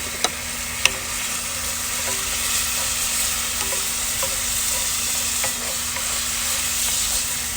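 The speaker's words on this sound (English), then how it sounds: "Add some butter. It's about a tablespoon of butter." About a tablespoon of butter melting in a cast iron pan on a grill, a loud, steady close sizzle with a couple of sharp clicks near the start and faint crackles throughout, no talking.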